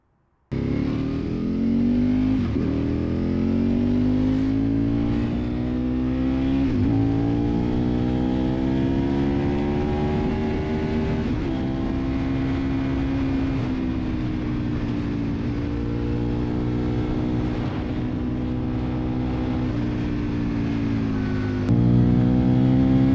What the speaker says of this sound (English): the incredible exhaust sound coming from this twin, this beautiful twin with a full Akrapovic exhaust